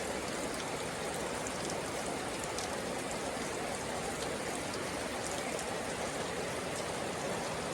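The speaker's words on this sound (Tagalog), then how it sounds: "Palakas ang ulan." Heavy rain pours in a constant dense hiss, an even wash of water drumming on surfaces and roofing with no pauses and no voices.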